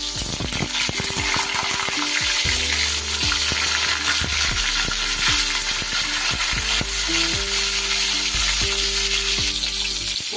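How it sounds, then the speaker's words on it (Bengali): Pointed gourd (potol) pieces frying in hot oil in a wok, a loud continuous sizzle with scattered pops and scraping stirs, close and steady, with no talk. "পটলগুলো ভালো করে আমি এদিকে তেলতে লাল লাল করে ভাজে দিই।"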